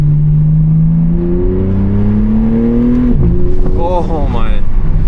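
A BMW G80 M3 engine pulls hard through second gear, its rising drone peaking before a quick upshift into third, then climbing again. The engine is loud, close and sustained, with a voice speaking under it.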